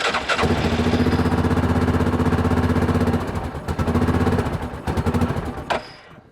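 An old Chevy C20 pickup engine idles with a steady, loping mechanical rumble, then stumbles and sputters when the throttle is pressed before dying out near the end.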